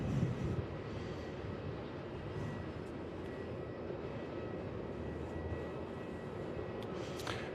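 An Air India airliner climbing out after takeoff at Melbourne Airport, a broad distant jet roar that holds steady throughout with no voices.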